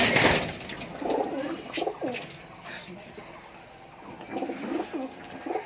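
Soft, repeated cooing of high-flying giribaz pigeons in two bouts, nearby and moderately loud over a rustling background.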